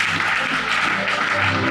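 A church congregation at a thanksgiving service applauds the Lord, a steady, dense wash of many hands clapping together without pause, loud and close.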